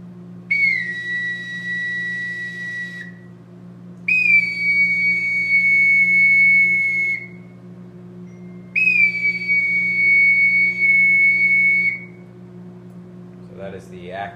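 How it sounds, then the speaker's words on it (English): An Acme Bosun boatswain naval whistle sounds a signal in three long, shrill, steady blasts separated by short pauses, close and loud over a low hum. "It is a naval whistle used for signaling, and I learned one of those signals today."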